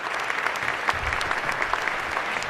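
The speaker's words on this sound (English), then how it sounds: "Let's give that another round of applause." A brief burst of steady applause from an audience, many hands clapping at an even level throughout.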